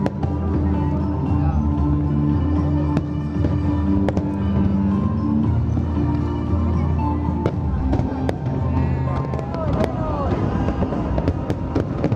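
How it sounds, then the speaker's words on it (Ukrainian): Fireworks exploding in repeated sharp bangs and crackles at irregular intervals during a fireworks competition in Vietnam, with people talking and crowd murmur underneath. "де стріляють феєрверки"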